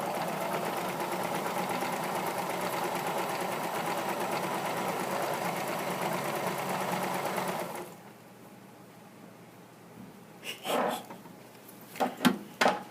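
A sewing machine stitches around a pajama waistband with a steady, close mechanical whir. It stops partway through and is followed by a few light handling clicks and knocks.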